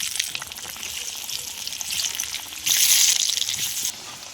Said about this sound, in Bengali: তো আলুগুলো ভেজে নেবো